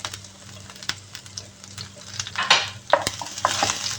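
Chopped ginger, garlic and green chilli sizzle in hot oil with red chilli while being stirred in a pan for kadumanga achar, a steady close crackle with scraping stir strokes and a low background hum.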